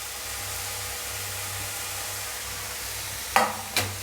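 Onions and chopped beans sauté lightly in a pan with a steady soft hiss and sizzle, followed near the end by two sharp scraping stirs.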